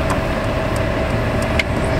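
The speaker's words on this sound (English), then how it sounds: "Okay, turn it off. The car's shaking." A car engine runs steadily with a low idling rumble and a slight rough shake, loud and close, with no talk.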